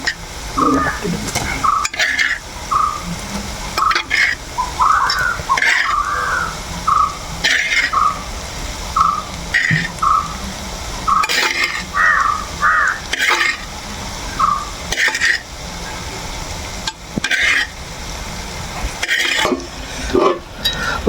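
Cooked clam meat stirred into masala in a pan for a toddy-shop style clam curry, with scraping and clanking strokes, sizzling, and crows cawing repeatedly in the background.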